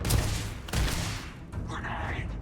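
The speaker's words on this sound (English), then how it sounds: "Nice grenade throw, mate." Grenade explosion in the Starfield video game: several heavy booming bursts in quick succession, loud and close, with rumbling debris between them.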